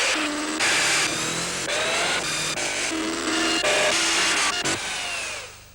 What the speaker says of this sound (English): The Bosch 400E hammer drill has a 9-speed pre-selector and an almost indestructible 400-watt motor